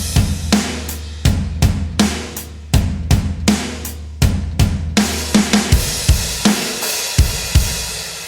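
Pop punk drum kit from Superior Drummer 3 plays a steady driving beat, with kick and snare hits under crashing cymbal wash, loud and close, ending with a brief fill.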